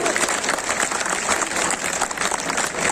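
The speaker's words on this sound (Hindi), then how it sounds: "उनके लिए जोरदार तालियां बजनी चाहिए" Loud, sustained applause from a large crowd of farmers at an outdoor rally, dense clapping running steadily throughout with no voice breaking through.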